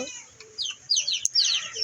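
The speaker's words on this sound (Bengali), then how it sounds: "দেশি মুরগির বাচ্চা আমাদের গ্রামের বাড়িতে ফুটছিল" Small desi chicks, two young chicks newly taken from their mother, give repeated high chirps and peeps in short bursts, fairly close, with faint low background noise.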